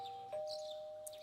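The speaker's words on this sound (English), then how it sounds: "You hear the doorbell ringing." A doorbell rings in the video game Persona 4 Golden: a faint, short two-tone chime rises over a steady quiet background tone, with a small bright click near the end and no voices.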